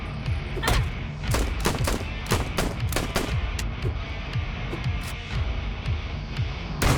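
Gunshots ring out in a horror video game demo: a rapid series of loud, sharp shots, close and heavy, fired in quick irregular bursts without any talking.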